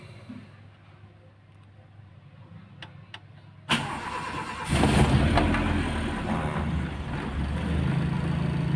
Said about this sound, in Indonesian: setelah kita kontak on itu kita nyalakan.